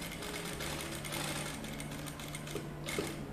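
Sewing machine stitching a shirt collar about a millimetre from the stiff interfacing, running in one steady, continuous mechanical whir at moderate volume, with no talk.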